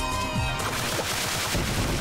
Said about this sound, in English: Those are weird explosions